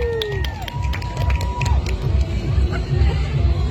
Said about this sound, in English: So round of applause for Heather.